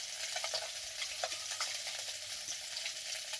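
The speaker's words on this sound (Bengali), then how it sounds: "এইভাবে ধীরে ধীরে রেসিপিটা ভাজতে হবে" A tomato-based tangy, spicy and sweet snack fries slowly in a pan over a low gas flame, giving a steady close sizzle dotted with soft crackles and light stirring scrapes throughout.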